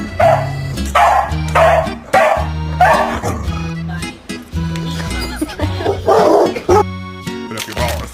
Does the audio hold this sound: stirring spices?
no